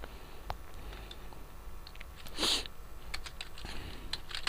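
Keys tapped on a computer keyboard while a first Python program is written, heard as quiet, irregular clicks with one louder burst midway, with no voices.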